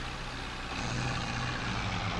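Tractor engine labouring under heavy load in a Farming Simulator 22 tug-of-war between an HMT 5911 and a Massey Ferguson, a steady low drone held at constant loudness with no talk.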